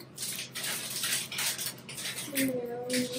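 A metal sieve of powdered sugar is knocked against the side of a cake pan in a series of quick, close rattling taps with a faint metallic ring, repeating at an uneven rhythm.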